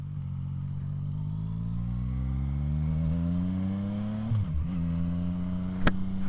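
A motorcycle engine runs steadily nearby, rising slightly in pitch as it pulls away, with a brief clatter near the end.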